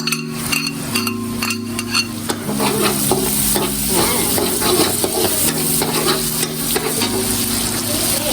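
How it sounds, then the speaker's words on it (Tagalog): Onions for pork chao fan sizzling in a pan, a loud continuous fry with repeated stirring scrapes and light clinks of a utensil, close up and without talking. "pwede na natin ilagay ang ating sibuyas"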